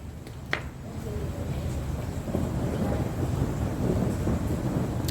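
Thunder rolls as a low, steady rumble during an outdoor rainstorm with lightning, mixed with rain hiss and wind buffeting a nearby microphone, continuous and fairly loud.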